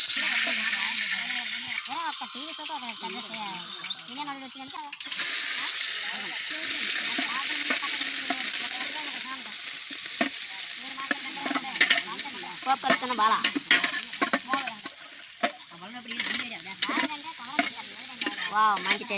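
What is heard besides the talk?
oil sizzling, food frying in pan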